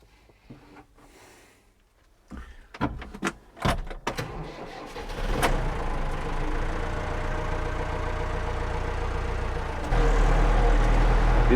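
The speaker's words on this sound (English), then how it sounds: "this tractor's got to go down anyway, so I might as well take it down now" A farm tractor starts up with a few clunks and cranks, then its engine settles into a steady running drone that grows louder near the end.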